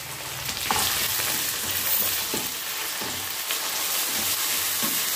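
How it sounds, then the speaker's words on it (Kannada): Chopped tomatoes fry in a pan while upma is being made, a close, steady sizzle with scraping stirring strokes at irregular intervals. "ಇವಾಗ ಟೊಮೆಟೊ ಹಾಕೊಳ್ತಾ ಇದ್ದೀನಿ"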